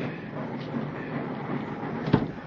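A train rolls along the rails as a radio drama sound effect, a steady low rumble with a faint clack near the end and no voices.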